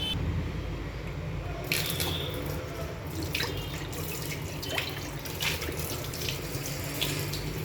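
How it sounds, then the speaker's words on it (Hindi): Tap water runs and splashes into a kadhai (wok) being rinsed at a kitchen sink, a close continuous stream with brief scrubbing and sloshing bursts as the pan is moved under the flow. "कढ़ाई लेने के बाद कढ़ाई का धो लेंगे एक बार."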